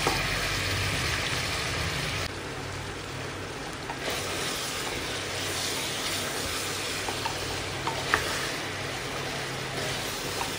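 Cumin and coriander paste sizzles steadily in a hot pan as it is stirred, a dense, even frying hiss that stays loud and constant throughout with a few faint scrapes.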